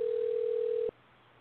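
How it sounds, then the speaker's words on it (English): A telephone line sounds a single steady electronic tone for just under a second before cutting off abruptly, thin and narrow like audio heard over a call. "now I hear a phone ringing"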